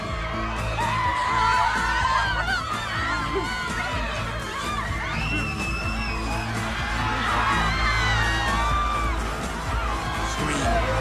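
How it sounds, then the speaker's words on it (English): A large crowd screams and cheers continuously at a lively event, a dense wash of shrieking voices and whoops that stays loud and steady throughout. "Scream. Come on, scream. Scream louder."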